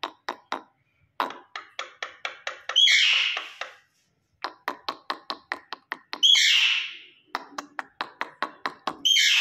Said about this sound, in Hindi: ये मैना देखें अभी थोड़ा थोड़ा बोल रही है हमारे साथ